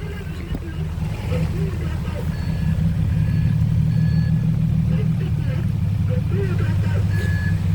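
A Sumitomo SH130-6 excavator reversing on a muddy work site in steady rain, its low engine drone running continuously with a faint repeating reversing beep on top, while people talk over it.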